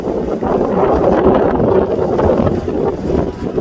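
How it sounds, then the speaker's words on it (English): Strong wind buffets the microphone on Market Street, a steady, loud, low rumbling roar with gusty swells throughout, and no talk. "Bit windy."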